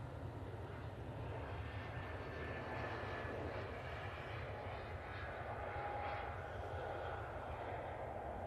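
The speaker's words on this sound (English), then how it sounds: "We'll go back to the Brussels Airlines A320 that's just arrived." Brussels Airlines Airbus A320 arriving at Manchester Airport, a steady broadband roar of engines at moderate distance holding constant throughout, with a faint tonal whine riding on top.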